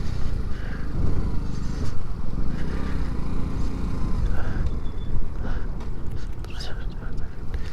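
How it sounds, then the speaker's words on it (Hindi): A Hero Splendor 100cc motorcycle idles and putters steadily on a high mountain road in Ladakh, a low continuous engine rumble throughout, with wind noise and someone speaking over it. "अब रोकते हैं यहाँ पे बाइक"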